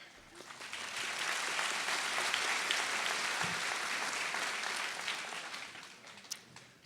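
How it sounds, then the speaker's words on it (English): Applause from a high school senior assembly audience after an award is announced, a broad wash of clapping that swells, holds steady for several seconds, then tapers off. "We can have applause after every single person for this awards."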